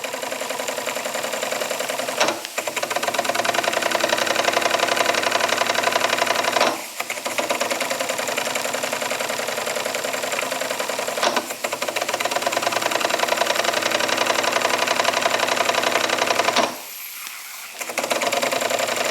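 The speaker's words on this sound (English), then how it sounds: "But the engine is functioning as expected," A Jensen Model 75 toy steam engine runs with a fast, even mechanical chugging, close and loud, with a slight stick at top and bottom dead center, broken by a few brief dips and a short pause near the end.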